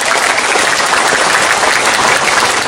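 A crowd at a religious gathering, a halal bi halal with sholawat singing, gives loud, thick applause, a sustained close wall of clapping at full strength across the whole moment.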